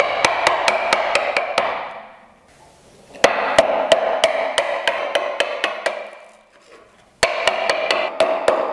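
A chisel is struck to chop out a mortise in wood, sharp mallet blows in quick, even runs of about seven to eight, separated by short pauses, loud and close.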